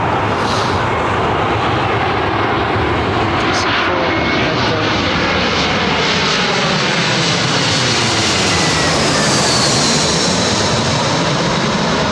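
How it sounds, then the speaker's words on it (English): A McDonnell Douglas DC piston airliner passing at London Heathrow, a loud, continuous broadband engine roar that fills the whole stretch and swells slightly toward the end, with no voices. "It was another McDonnell Douglas DC."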